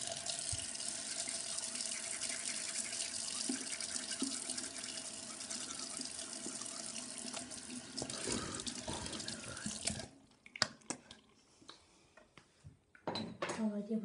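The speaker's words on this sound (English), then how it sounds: "All I did was rinse my mouth out with water." Tap water runs steadily into a sink for about ten seconds as someone rinses their mouth, with faint clinks of dishes, then the flow stops and scattered bathroom handling sounds follow.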